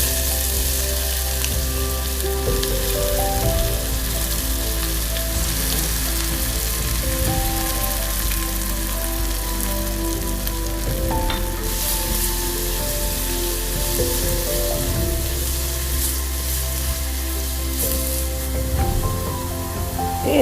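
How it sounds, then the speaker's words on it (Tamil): Steady, loud sizzling of shallots sautéing in hot oil, a continuous crackling hiss with occasional stirring clatter, close up and without voices. "நம்ம ஏற்கனவே நறுக்கி வச்சுருக்கிற சின்ன வெங்காயத்தை சேர்த்து வதக்குறோம்"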